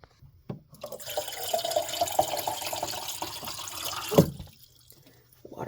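Water gushes steadily from a tap into a container for several seconds, a bright continuous splashing with a few clinks near the end before it shuts off, close and alone.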